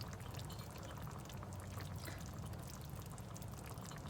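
Water pours from a can into a cooking pan for taco meat, a steady wash of splashing that runs for several seconds without a break.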